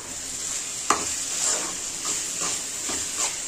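Tomatoes with ginger garlic paste sauté in a pan, a constant hissing sizzle with soft periodic scrapes of a stirring spoon, near and without speech.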